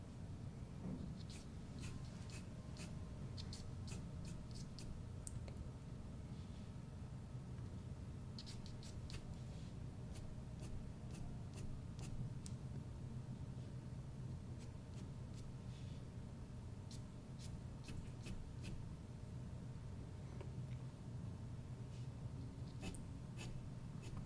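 Pen and ink marks scratched onto paper while drawing a figure's hair and arm, heard as faint, close, scratchy strokes in irregular bursts over a low steady room hum, quiet throughout.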